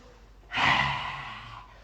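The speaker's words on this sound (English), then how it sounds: "Breathe in, breathe out." A single long, deep exhalation during a qi gong breathing exercise, rising sharply and tapering off over about a second, close and clear.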